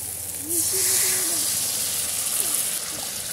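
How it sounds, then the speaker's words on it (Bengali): Water is poured into fried, sizzling masala in a pan while making Bengali-style katla fish kalia, setting off a sudden loud burst of steamy hiss that settles into a steady, softer sizzle. "মশলা ভালো করে কষে নিয়েছি, এবার জল দিয়ে দেবো।"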